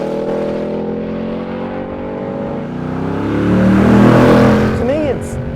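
A Ford Mustang Mach 1 V8 engine rises in pitch as it revs and accelerates hard, loud and close, swelling to a peak before easing off near the end.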